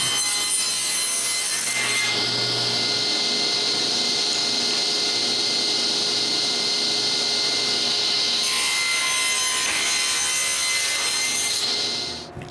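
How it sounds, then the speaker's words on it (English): A saw ripping wood into small square pieces in a workshop, a loud continuous rasping cut that holds steady for most of its length before cutting off abruptly at the end. "I rip all the square pieces that make the locking mechanism."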